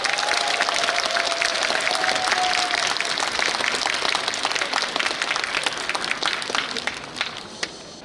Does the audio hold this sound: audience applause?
yes